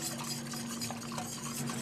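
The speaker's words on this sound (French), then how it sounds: "on va fouetter ça jusqu'à ce que le lait monte à ébullition" Milk being whisked in a pot with the other ingredients for a béchamel sauce, a steady rapid swishing and light metallic scraping of the whisk against the pan, close and continuous.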